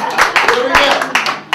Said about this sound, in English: The applause break